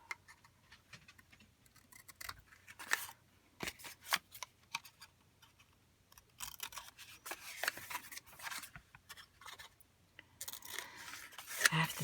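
Scissors cut through a small cardboard box being recycled into a journal cover, a run of close, crisp snips and crunches at an irregular pace against a quiet background.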